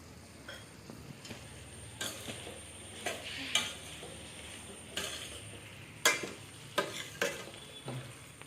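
A spoon stirs chicken curry with chili powder in a pan, scraping strokes arriving every second or so over a soft constant sizzle, close and fairly quiet.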